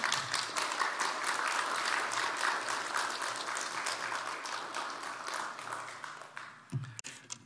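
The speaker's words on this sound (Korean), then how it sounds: "이제 선교사님 나오실 때 큰 박수로 환영해 주십시오." An audience in a church morning service breaks into sustained applause welcoming a missionary to the stage, a dense, fairly loud wash of clapping that gradually thins and fades, ending with a few brief knocks.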